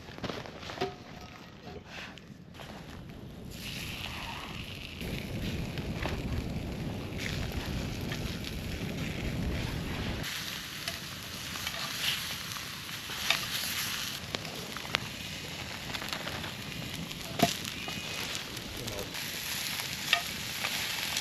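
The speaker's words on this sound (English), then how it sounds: "I'm just gonna cook up a quick feed of sausages and onions on the fire area" Sausages and onions cooking over an outdoor campfire, giving a steady sizzle and crackle with occasional scraping and stirring sounds, moderately close, with faint talk at times.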